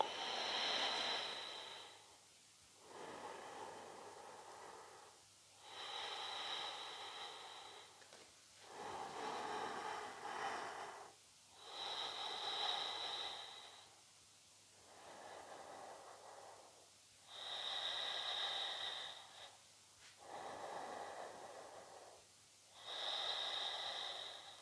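Steady yogic breaths taken while holding a Vinyasa pose, each slow inhale and exhale a soft, close, airy rush; about eight even cycles with brief pauses between them, no talking.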